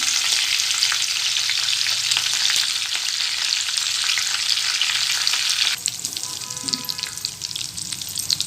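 Curry leaves sizzle in hot oil in a pan, a loud, continuous crackling hiss that drops to a softer sizzle partway through.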